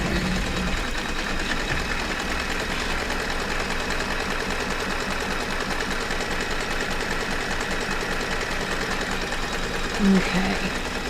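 Sewing machine stitching a quilt block with window and awning pieces, running at a steady, even hum through the whole stretch while someone talks over it.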